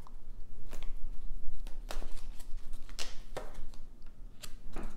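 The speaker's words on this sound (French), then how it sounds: "je vais tirer une dernière carte" Tarot cards being shuffled and drawn from a deck, giving several crisp snaps and flicks between softer sliding rustles, close and fairly loud with no talking.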